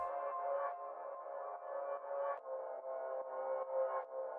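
Layered piano chords from a dark FL Studio UK drill beat, heard as a quiet, sustained chord melody that changes harmony in soft pulses, with a faint click at the very end.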